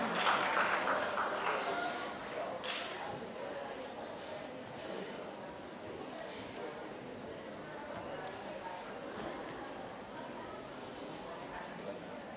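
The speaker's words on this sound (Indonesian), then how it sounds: "berikan aplaus pada Sista" Audience applause for a pageant finalist from a provincial contest, a broad, sustained wash of clapping that starts loud and stays steady, with a host's voice speaking over the crowd.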